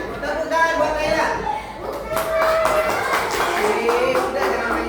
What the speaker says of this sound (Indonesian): Tepuk tangan buat Naila.